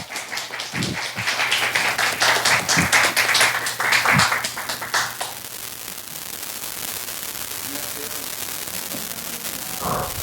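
A church congregation claps to welcome a pastor to the pulpit, uneven bursts of hands for about five seconds that then die away into a quiet room hum with a few faint sounds.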